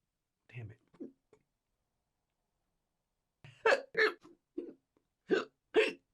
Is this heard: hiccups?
yes